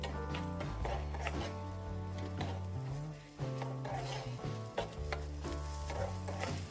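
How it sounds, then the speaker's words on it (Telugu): Chopped onions frying in ghee in a pan: a soft, continuous sizzle with light stirring and pan clatter nearby, over a quiet tonal background. "ఈ నెయ్యి కొంచెం వేడైన తర్వాత దీనిలో మనం కట్ చేసి పెట్టుకున్న ఉల్లిపాయలు వేసుకోవాలండి. వీటిని మనం బాగా వేయించుకోవాలి."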